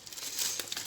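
A plastic shopping bag from a grocery run gives a short, close, crisp crinkle that rustles steadily for under a second, with no voices.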